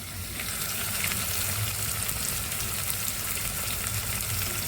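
Chopped onion frying in oil with mustard seeds, cumin and curry leaves for North Karnataka besan junaka: a dense, steady, fairly loud sizzle with a low rumble beneath, continuous throughout with no talking.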